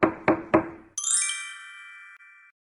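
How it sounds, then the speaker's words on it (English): A child knocks on the floor with a toy dinosaur, three quick close hollow raps, then a bright chiming tone rings and slowly fades. "Emma knocked with a dinosaur."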